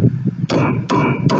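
A new lug stud on a 10,000 lb trailer axle drum is driven in with three sharp metal strikes from a socket wrench used as a hammer, evenly spaced and ringing briefly, with no talking.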